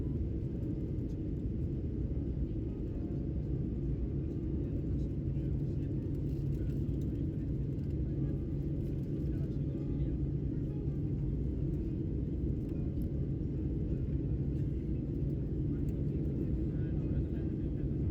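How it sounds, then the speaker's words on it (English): Steady low engine rumble and cabin drone fill an Iberia Airlines A330 landing in Madrid, a constant dense roar with no breaks and no voices. "So here we are landing in Madrid"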